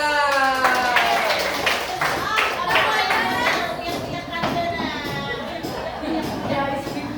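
A group claps together during an ice-breaking game at a school positive-culture session. Bursts of clapping come in uneven groups, mixed with voices calling and chattering throughout.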